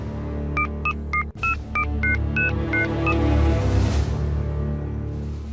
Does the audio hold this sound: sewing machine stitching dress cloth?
no